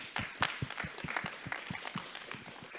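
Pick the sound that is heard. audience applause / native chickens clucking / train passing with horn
audience applause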